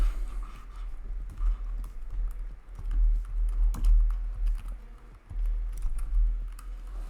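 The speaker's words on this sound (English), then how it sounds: "type image outline, just like this" Typing on a computer keyboard, a run of quick light key clicks in an uneven rhythm over a low background hum, close and alone with no talking.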